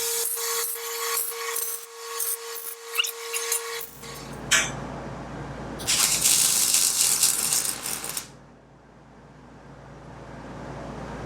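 Tack welding a steel piece on a shop crane in a workshop: loud, dense crackling welding bursts for about four seconds, then a low steady hum with a second bright hissing burst, then quieter fading noise.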